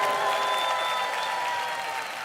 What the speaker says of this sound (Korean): 환영의 박수로 맞이하도록 하겠습니다.